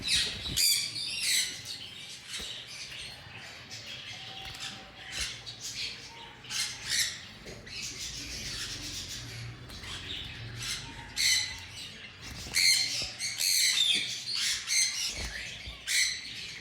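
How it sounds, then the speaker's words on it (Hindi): A breeder pair of cut-throat finches calls, giving a busy stream of short, sharp chirps and squawks at close range that rise and fall in bursts throughout. "रेड रिबन में हमारे पास कट थ्रोट का ब्रीडर पेयर पड़ा हुआ है"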